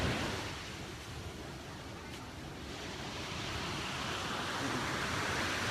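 Ocean waves and surf roar steadily in a broad, continuous wash close by, mixed with wind noise against the microphone.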